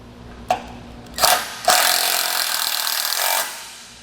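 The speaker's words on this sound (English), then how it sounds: "get my self-tapper started in there" A power driver sinks a self-tapping screw while mounting a Malone MegaSport trailer carrier: two short whirring bursts, then a sustained close grinding drive lasting about two seconds before stopping.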